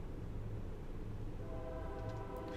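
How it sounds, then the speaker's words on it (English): Train in the video game Toren passes by, a steady rumbling roll of wheels that holds at an even level, with a faint sustained tonal hum joining toward the end. "Mr. Train is here."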